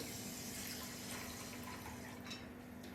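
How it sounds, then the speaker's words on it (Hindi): Water is poured from a bowl into a pan of sugar for gulab jamun syrup, a steady, close splashing rush of liquid that continues evenly without any talk. "तो हम 2 कप्स पानी डालेंगे।"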